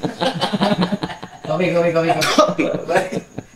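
A single sharp cough breaks out amid conversational speech, close and fairly loud, with talking continuing before and after it.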